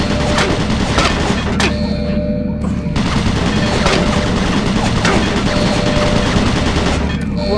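Automated turret guns fire in Doom 3, a loud, continuous burst of rapid gunfire with booming impacts that stays dense and steady from start to finish, with a short drop-off partway through.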